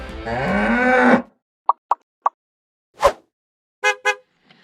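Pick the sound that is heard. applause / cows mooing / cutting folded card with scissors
cows mooing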